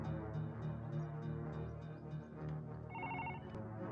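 A telephone rings on a hospital call: a brief, repeating electronic ring tone that sounds near the end, set against a dense, loud musical background.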